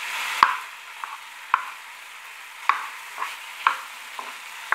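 Onions frying in a pan for a stuffing of olives and potatoes, with a quiet sizzle broken by a handful of sharp spoon scrapes and stirs spaced about a second apart.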